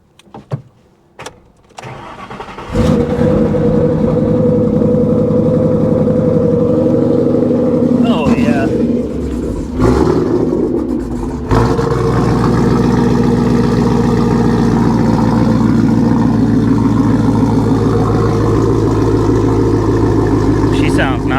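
A fire-damaged Range Rover's engine cranks and catches after a few quiet knocks, then runs loud and close with a couple of revs before settling into a steady idle, with a brief spoken remark early on.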